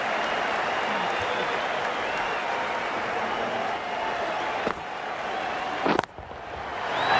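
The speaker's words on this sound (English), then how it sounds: "be hard for the bowler to focus with the crowd this excited." Excited crowd roaring and cheering at a cricket match in the video game Cricket 19, India versus Australia, a dense steady wall of noise that dips briefly near the end with a short sharp knock.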